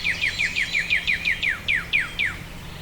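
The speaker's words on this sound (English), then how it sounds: "there's a bird making a beautiful noise up there" A bird sings a quick series of about a dozen sharp, descending chirped notes, evenly spaced and fairly clear, set against quiet woodland background in a state park.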